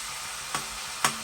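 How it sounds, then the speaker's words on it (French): Lardons frying in a pan, a steady hiss of fat with two sharp scraping stirs about half a second apart, close and clear with no voices. "Le cuisson de lardon."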